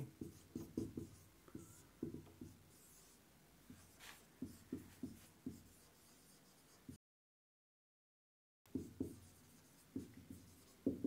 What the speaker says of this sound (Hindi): नोट लिख लेंगे